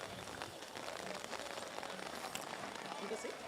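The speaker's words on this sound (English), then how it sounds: "Let's just make the adjustments as the rain comes." Rain falling steadily on surfaces outdoors, a soft continuous hiss of drops at low level, with faint voices in the background.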